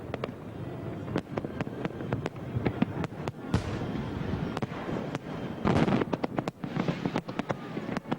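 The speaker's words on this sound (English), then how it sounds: "there's still nothing to beat a firework display" A fireworks display bursts in a string of sharp, loud explosions at irregular intervals, some nearer and punchier, over a rumbling background with light wind noise and faint crackle.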